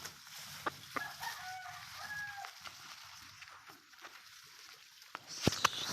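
Faint clucking from a hen amid quiet outdoor ambience while her eggs are collected, with a few soft clicks and a brief sharper knock near the end.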